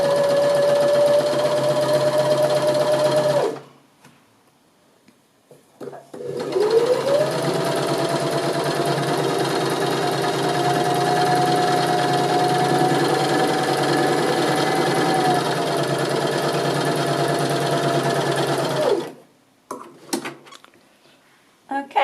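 A sewing machine stitches shirring elastic onto fabric in two long runs, a steady mechanical hum that stops briefly and restarts, then ends.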